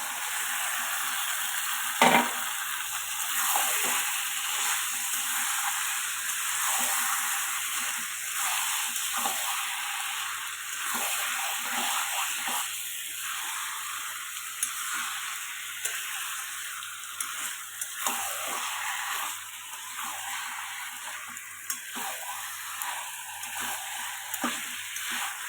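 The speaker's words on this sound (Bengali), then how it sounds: "তো দেখো, তেল ছেড়ে দিয়েছে, এবার আমি চিকেনটা দিয়ে দেবো।" Chicken frying in hot oil in a Bengali home kitchen for chicken kosha, with a steady, close hiss and crackle running throughout, sharpened by occasional spatters and light stirring, and no voices.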